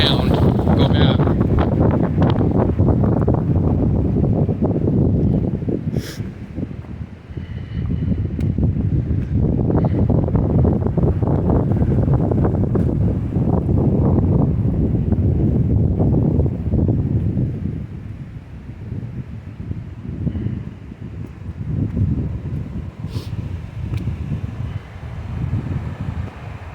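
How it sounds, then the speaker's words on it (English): Strong wind on a mountain hiking trail in Great Smoky Mountains National Park, roaring and buffeting the microphone in loud continuous gusts, easing slightly near the end, with a person talking intermittently. "It is getting windy."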